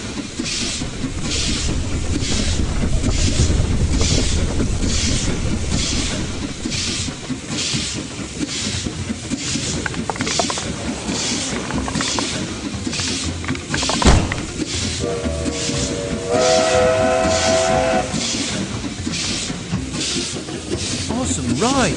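A video game steam train's steady, rhythmic clickety-clack rolls on throughout, and a brief whistle blast sounds near the end.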